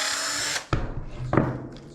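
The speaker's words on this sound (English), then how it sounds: "First thing I'm going to do is drill a hole into the ends of these sticks." Power drill boring a pilot hole into the ends of wooden sticks for shooting sticks, a high whirring burst that stops, then short thuds and a second brief bite into the wood.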